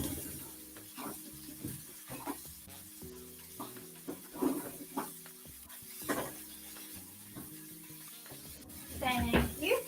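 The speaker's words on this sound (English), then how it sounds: "Sizzling." Pork burger patties sizzle on a hot grill under scattered clinks and scraping, with a louder clatter near the end; no one speaks.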